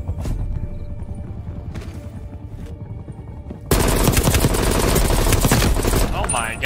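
XM4 rifle in Call of Duty Cold War firing a few scattered shots, then bursting into dense, loud continuous automatic fire at close range amid game noise.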